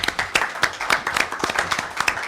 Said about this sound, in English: If you could all give him a round of applause.